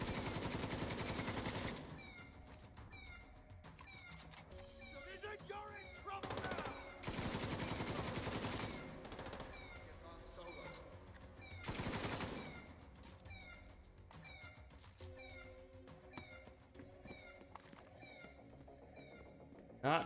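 Gunfire in a shooter game, The Division 2, with bursts of sharp shots and several loud, dense volleys between quieter stretches of game noise.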